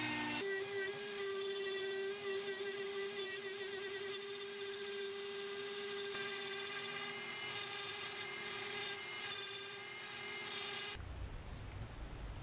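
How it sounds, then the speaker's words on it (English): A Dremel rotary tool with a circular burr bit cuts a slot while a topwater popper fishing lure is being built, giving a loud, steady high-pitched whine that runs for about eleven seconds, then stops abruptly. "I'm gonna use my Dremel."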